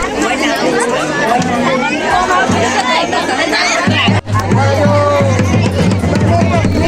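A dense crowd chatters at a village temple fair for Sheetala Mata, with many overlapping voices forming a loud, continuous babble close by.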